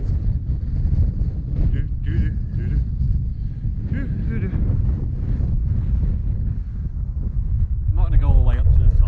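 Strong wind on a hill in the Peak District buffets the microphone with a constant low roar, while a person talks faintly underneath the gusts.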